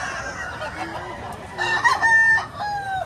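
A rooster crows loudly nearby as chickens cluck softly around it, with no talking, at a poultry market in Batangas, Philippines.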